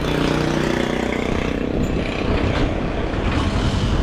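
A motorcycle engine, started without a key, runs steadily at idle, loud and close, with a constant rumbling drone throughout.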